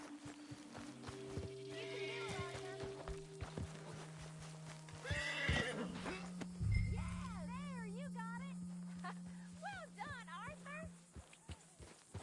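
Horse in Red Dead Redemption II whinnies with a long wavering neigh amid clip-clop hooves and footsteps, while people talk and a low rumble sits underneath.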